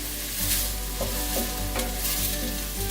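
A sloppy joe mixture with green peppers and green chilies cooks in a pan, giving a loud, continuous close sizzle with a few brief crackling bursts.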